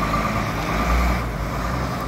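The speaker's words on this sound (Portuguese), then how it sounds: "E já foi o Iveco embora." An Iveco truck, a modern FNM-style Fiat Iveco, rumbles with a steady low engine drone and broad road noise as it pulls away, loud and continuous with no speech.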